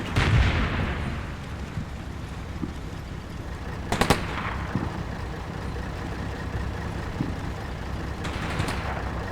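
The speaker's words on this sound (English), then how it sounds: "Apparently they're shooting at the bridge." Gunfire aimed at a bridge in the wargame Combat Mission Black Sea: a thudding blast at the start, then sharp bursts of shots around the middle and again near the end over a low rumbling background.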